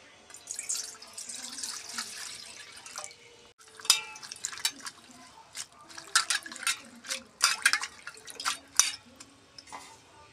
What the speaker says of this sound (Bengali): পাতাগুলোকে এখন আমি ভালো করে ধুয়ে নেব।